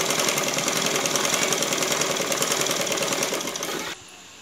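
A sewing machine stitches a saree blouse back neck, a steady rapid mechanical whirr running continuously at close range before cutting off abruptly near the end.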